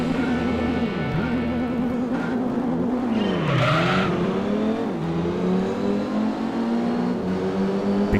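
Rally cars in Gran Turismo 4 Prologue, racing through an arcade event in New York, engines droning and revving loudly with pitch swooping down and back up, and a brief tire squeal mid-way.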